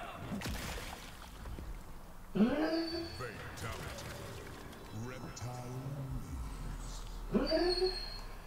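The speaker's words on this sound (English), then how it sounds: "And he's barking in his sleep," A sleeping, dreaming dog lets out two muffled yelping barks several seconds apart, heard in the background under a person talking while playing a video game.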